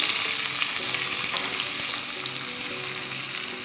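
Curry leaves and asafoetida sizzle steadily in hot oil in a pan while a tempering is made for rasam, a continuous close, even frying hiss with no talking.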